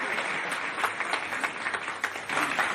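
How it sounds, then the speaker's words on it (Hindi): Steady, dense applause from a crowd at a political welcome event in Khalari, continuing without a break from start to finish. "जोरदार ताली से स्वागत करें"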